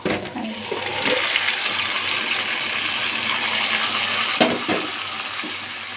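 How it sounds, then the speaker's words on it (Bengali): Marinated meat from a large white Chinese duck hits hot oil with fried onions, bursting into a loud, rushing sizzle that settles into steady frying with a few stirring knocks. "ম্যারিনেট করা মাংসগুলো এখানে ঢেলে দিয়ে দিব।"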